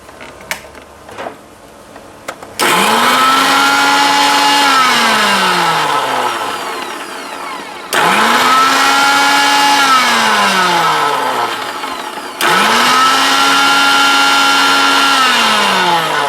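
A blender whirs loudly as it mixes egg white with sunflower oil for homemade alfam mayonnaise, running in three long bursts with a rising whine at each start and brief pauses between.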